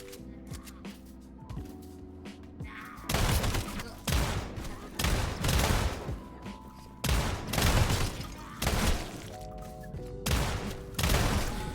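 Bursts of video game gunfire from homing bullets, several loud rapid volleys roughly a second apart over a steady electronic music bed, close and dominant.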